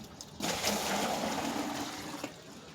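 Water gushes steadily into a 20 litre bucket for about two seconds, a full, hissing splash that begins abruptly and stops just as suddenly, with no one talking.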